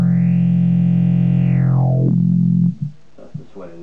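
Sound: Behringer BSY600 synth note swelling via FCV100 expression pedal

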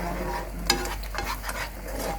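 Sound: stirring coconut milk simmering in a pot

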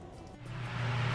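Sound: air system running to air out paint building

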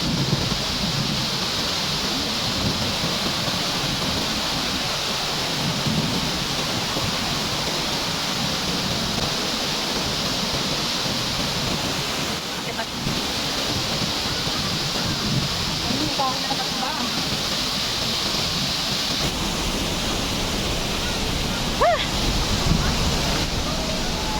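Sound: Ditumabo Mother of Falls waterfall

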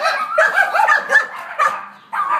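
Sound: dogs barking

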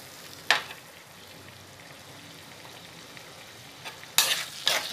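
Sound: small onions (shallots) frying and being stirred in a pan

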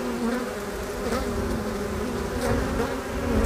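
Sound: honeybee hive buzzing

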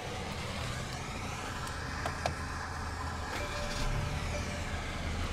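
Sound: Mercedes-Benz E300 2.0L turbo inline-4 engine starting and idling

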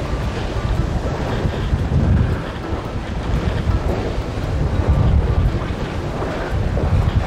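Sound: wind at sea on a sailboat

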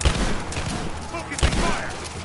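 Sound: gunfire in video game Rise of the Tomb Raider

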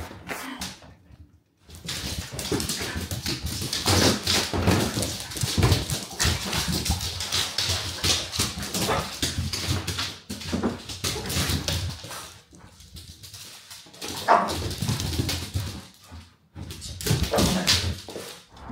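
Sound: dog whimpering

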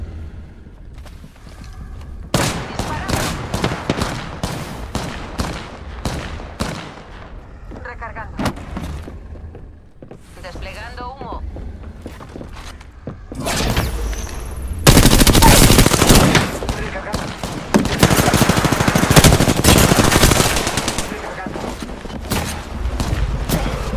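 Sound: gunfire from the video game Apex Legends

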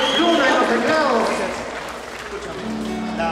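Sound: audience applause for the band members

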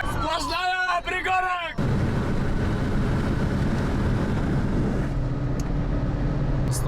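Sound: Renault car driving at high speed on the highway

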